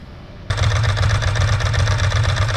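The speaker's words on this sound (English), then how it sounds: "The S4, like a lot of Ducatis, has a dry clutch, so when the clutch is not engaged they sound like a bag of nails" A 2001 Ducati S4 motorcycle engine idles with its dry clutch disengaged, and a loud, close, rapid metallic rattle sets in abruptly and continues steadily over the engine's low thrum.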